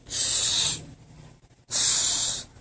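A perfume atomizer gives two long, bright hissing sprays about a second apart, each lasting under a second, loud and close, with near silence between.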